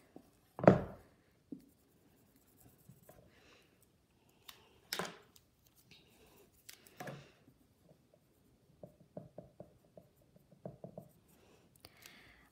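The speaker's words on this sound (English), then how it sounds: "So I'm gonna write bathroom." Pen writing a word on paper during planning of a morning schedule, a few short quiet scratching strokes spread out with pauses, close and faint, no talking.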